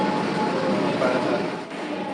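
A Kolkata Metro train at Sealdah metro station rumbles steadily and loudly throughout, a continuous broadband roar of the cars with no speech over it.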